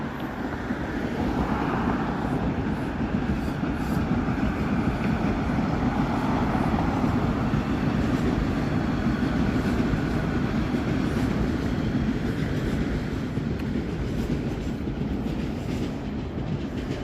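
A Toronto subway train rolls past outdoors with a steady, loud rumble and rail clatter lasting throughout, heard from nearby in a windy street setting, without talk.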